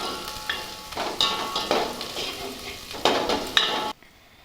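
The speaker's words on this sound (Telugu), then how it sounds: "ఇవన్నీ దోరగా వేయించుకోవాలంటే" Ingredients for nalleru chutney roasting in a pan, with steady sizzling and repeated stirring scrapes in irregular bursts, close and moderately loud, cutting off abruptly near the end.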